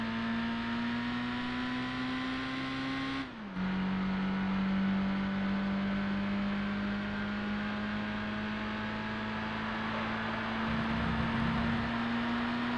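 A Mazda MX-5 Roadster engine in Gran Turismo 3 holds a steady, droning note at high revs with a brief dip as it shifts gear, then settles back into a constant hum, with no talk over it.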